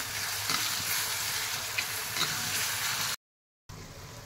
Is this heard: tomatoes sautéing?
yes